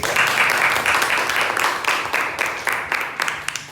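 A classroom audience applauds a group presentation in a teacher-training session, a dense burst of many hands clapping close by that fades gradually toward the end, with no talking.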